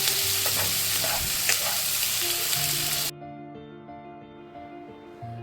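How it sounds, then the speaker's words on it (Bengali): Chopped onions fry and sizzle in a kadai with whole coriander while being stirred, a steady loud hiss with scraping stirs for the first three seconds, then quieter crackling with a lower hum. "এবার কুচনো পেঁয়াজগুলো ভালো করে ভেজে নেব।"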